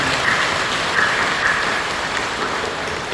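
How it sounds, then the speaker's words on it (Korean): A church congregation claps during a Sunday worship service, a steady even patter of many hands that holds for the whole stretch and eases slightly toward the end. "우리 사랑하며 격려하며 박수 주십니다."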